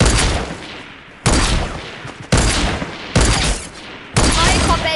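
Sniper gunfire in the Fortnite video game: four sharp, loud shots spaced about a second apart, each with a booming crack that rings out and slowly decays before the next.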